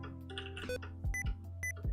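Short electronic alert tones from a Windows PC with sticky keys triggered, several quick bright beeps repeating over game music and background sounds in the fishing game Webfishing.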